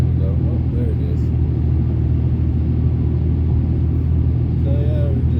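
A 2003 Ford Ranger with a swapped 4.0L SOHC engine cruises at about 70 km/h, its cabin filled with a steady low engine and road rumble, and a voice breaks in briefly at the start and near the end.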